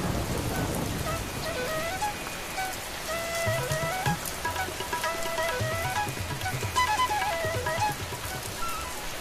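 Steady rain on a wet day pours down close by, an even dense hiss of drops striking surfaces with faint low rumbles underneath, continuous throughout without talk.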